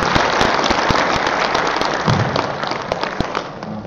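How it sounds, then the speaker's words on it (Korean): Audience applause at the opening ceremony of an international academic conference in Seoul, dense clapping from a large crowd, loud and continuous, with a faint voice briefly underneath. "역시 큰 박수 부탁드립니다."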